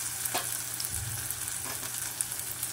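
Curry leaves and green chillies sizzling in hot oil with tomato for methi pithla, a steady close frying hiss with a few stirring scrapes.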